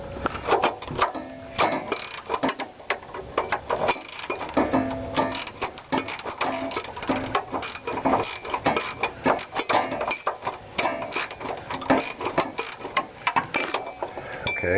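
A 1/2 inch ratchet wrench loosens a rear shock bolt on a 1957–1972 classic Chevy, with rapid, continuous clicking and metallic clinking close by throughout.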